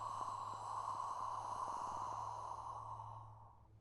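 A single long, forceful exhale through the mouth makes a breathy qigong 'fire' breath, a steady airy rush lasting several seconds before fading out, close and alone with no talking.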